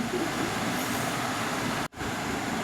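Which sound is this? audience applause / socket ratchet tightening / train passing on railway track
train passing on railway track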